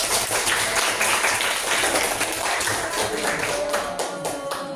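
Students clap together in a classroom after a math lesson on algebraic forms, a dense, steady burst of many hands that stays loud for a few seconds and then gradually thins out.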